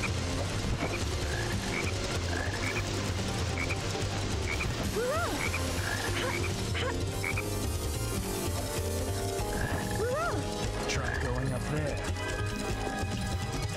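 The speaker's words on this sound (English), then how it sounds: "A little fucking blue frog." Repeated croaks from a frog in the video game Sonic Heroes sound over loud, continuous game music and effects, with quick hopping chirps that recur through the passage.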